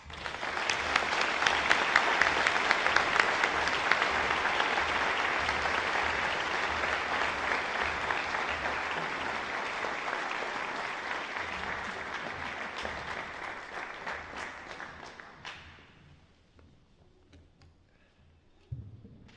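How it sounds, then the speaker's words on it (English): A large graduation audience at a physician assistant program ceremony applauds steadily for about fifteen seconds, a dense, loud wash of clapping that gradually thins and fades out toward the end, leaving near-quiet. "Let's all give the outgoing medical director and the incoming medical director a round of applause."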